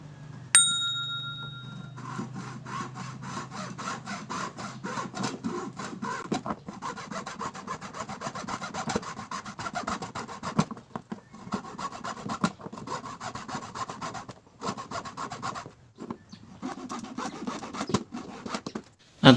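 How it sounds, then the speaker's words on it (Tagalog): A hand hacksaw cuts through steel in steady back-and-forth strokes. The rasping rhythm runs close and continuous with a few short pauses. "At habang ako naglalagari"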